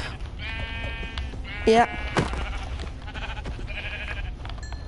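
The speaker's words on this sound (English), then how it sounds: "Ooh, found a sheep, though." A blocky Minecraft sheep bleats once in a short, loud burst, with a second fainter call, over game background noise and a player talking nearby.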